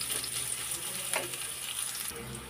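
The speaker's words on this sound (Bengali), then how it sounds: "পেঁয়াজটা একটু ভাজি ভাজি করে নিতে হবে।" Chopped onions with green chillies frying in oil in a pan; a steady, close sizzle runs throughout, with light stirring movements and no voices.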